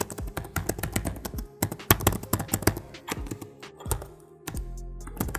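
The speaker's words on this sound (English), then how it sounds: "The keyboard is backlit, 2 level of brightness. Here is how it sounds." Keys on the backlit keyboard of a Dell Vostro 16 5625 laptop tapped in quick irregular bursts of close, crisp clicks, with a brief pause partway through and no talking.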